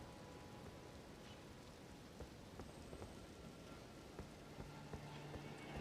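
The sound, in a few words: rain in Elden Ring video game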